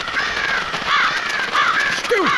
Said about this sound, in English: The crows offer some mocking caws as they fly off.